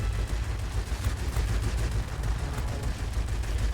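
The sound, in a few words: XP-50 aircraft guns firing in World of Warplanes video game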